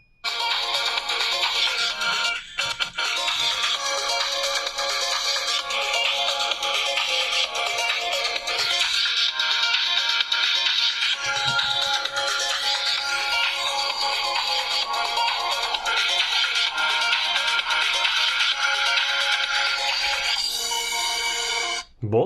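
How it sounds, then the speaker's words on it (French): A ringtone melody plays through a smartphone's built-in loudspeaker at high volume, a steady tonal tune that runs continuously for about twenty seconds before cutting off abruptly. "On va maintenant écouter le son du haut-parleur d'Arma."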